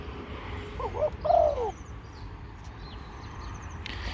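A red bird calls a few times in quick succession, short chirping notes over a steady outdoor hiss, then quiet background remains.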